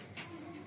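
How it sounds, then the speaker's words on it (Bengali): Cooing of white Mumbai pigeons, a short, faint, low murmur against steady background noise, heard briefly and alone without talk. "কবুতরগুলো দেখার মতো কবুতর"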